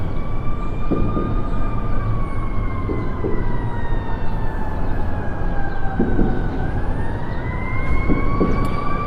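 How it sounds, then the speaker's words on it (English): Wailing sirens rise and fall in pitch continuously over a rumbling background of traffic, fairly loud and steady throughout, near a downtown firehouse. "I hear sirens starting up."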